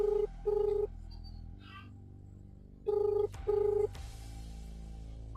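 Touch-tone keypad beeps from a phone as a call is dialed, two quick tones, a pause, then two more, clear and close over a low steady hum, with no talking.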